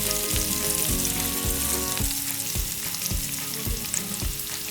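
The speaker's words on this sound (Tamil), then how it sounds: "நிறைய நேரம் விடாமல் 2 நிமிஷத்தால் சிவப்பு மிளகாயை போட்டு கிளறுங்க." Garlic and red chilli fry in hot oil for chilli garlic prawns, a loud continuous sizzle broken by regular scraping knocks of a spoon stirring the pan.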